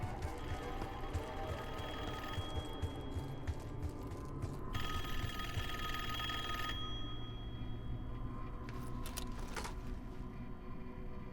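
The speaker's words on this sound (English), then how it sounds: "Answer the phone." A telephone rings in Call of Duty Black Ops 6, a steady trilling bell repeating over a dense, humming game background, fairly close and continuous throughout.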